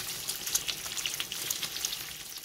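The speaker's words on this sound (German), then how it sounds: "in der Pfanne lasse ich dann Speck aus. Und zwar richtig heftig fetten Speck." Very fatty bacon renders in a frying pan with a dense, crackling sizzle full of small pops, close and steady throughout.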